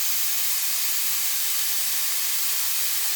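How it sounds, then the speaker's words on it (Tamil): Carrots and tomatoes sauté in a hot pan for a healthy sandwich filling, giving a steady, even hiss and sizzle close by that stays unbroken from start to finish. "இப்போ தக்காளியும் இதில் ஆட் பண்ணிவிட்டு லைட்டாக கொஞ்சம் வதக்கட்டும்."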